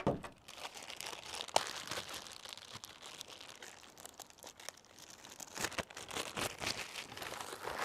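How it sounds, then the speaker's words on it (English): A plastic bag being ripped open, close by, with a steady run of crinkling and tearing bursts and no talking. "Let's get this bag open."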